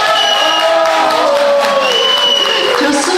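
Loud, dense applause with cheering and whoops fills the room as a concert audience responds at a Chuseok music evening in a live restaurant on Ganghwa Island, sustained throughout.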